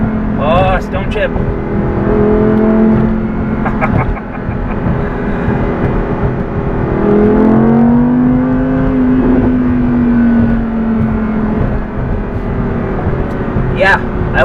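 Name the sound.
Audi R8 V10 Plus engine revving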